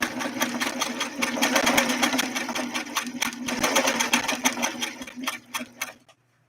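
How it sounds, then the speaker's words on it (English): A Singer Stylist sewing machine stitches a blind hem, running loud and close with a fast, even mechanical clatter and hum for about six seconds before stopping abruptly. "let's go down this and try the blind hem stitch now"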